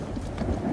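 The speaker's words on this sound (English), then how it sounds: "now it has to thunder like a mofo" Thunder with heavy rain during a storm in the video game Elder Scrolls Online, a loud low rumble under a steady hiss of falling rain.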